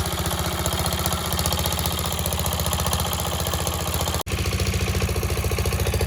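A walk-behind tractor's small engine idles nearby with a steady, rapid chugging rhythm that cuts out for an instant and resumes.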